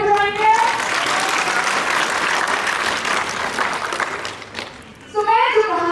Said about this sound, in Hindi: इसके लिए ताली बजाएंगे।